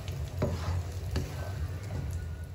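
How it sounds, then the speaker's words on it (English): Curry leaves and ground spice paste frying in a generous amount of oil for Malaysian curry chicken, giving a steady close sizzle with occasional stirring scrapes and soft pops, and no talking. "I always put in the curry leaves first because I want it to get fried a little bit"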